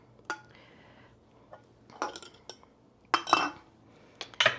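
A metal spoon clinks against a glass canning jar packed with peaches, a few sharp light taps in scattered bursts, close and fairly quiet, with soft handling noises between.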